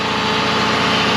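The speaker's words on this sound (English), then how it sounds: "we got the Onan generator all hooked up down here now" An Onan generator running at an off-grid cabin, giving a steady, loud, continuous engine drone with a constant idle hum and no pauses.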